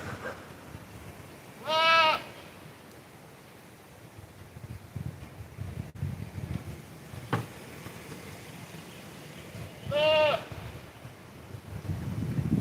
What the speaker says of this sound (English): She's a very jealous goat.